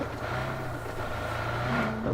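A steady car engine drone with a low rumble runs throughout in the video game PUBG Mobile, like a car cruising along, with a brief higher tone rising near the end.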